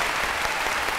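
Dense, even applause from a Vietnamese TV studio audience for contestant Phạm Lịch on Gương Mặt Thân Quen, a continuous close wash of many hands clapping with no voices over it.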